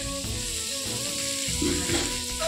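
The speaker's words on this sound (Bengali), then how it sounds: "কালকের মাছটা আবার একটু ভেজে নিয়েছি" Leftover fish refries in a pan with a close, steady sizzle and hiss, cut through by tonal humming and a few brief clatters.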